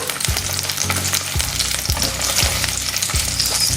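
Breakfast sausages fry low and slow in a pan, a loud constant sizzle punctuated by roughly six regular soft thumps as they are turned onto their sides, with no voices.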